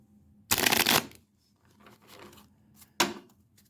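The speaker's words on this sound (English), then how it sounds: "let's do a shuffle real quick" Tarot cards are shuffled in two quick riffling bursts, the first longer and the second short, with soft handling rustles in between.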